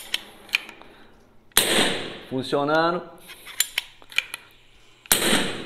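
A PCP air rifle firing lead pellets gives sharp, loud cracks, several spaced shots across a few seconds, with someone speaking briefly between them.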